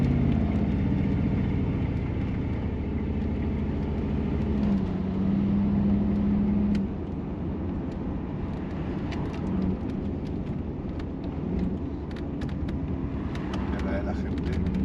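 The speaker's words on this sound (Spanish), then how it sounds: "Ahora estáis viendo cómo se conduciría el coche fantástico" Knight Rider car replica driving, heard from inside the cabin, with a steady engine drone and road rumble throughout and someone talking over it.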